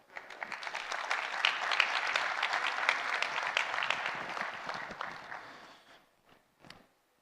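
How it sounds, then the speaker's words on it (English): A large audience at an aviation industry conference in Dubai breaks into loud, dense applause that holds steady for about six seconds, then quickly fades, leaving a few last scattered claps. "I think you deserve a round of applause."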